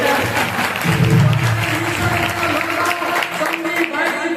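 A church congregation bursts into loud, sustained applause that fills the whole stretch, steady and dense, with faint musical tones running underneath.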